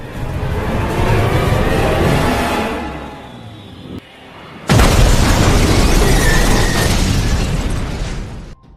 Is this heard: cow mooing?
no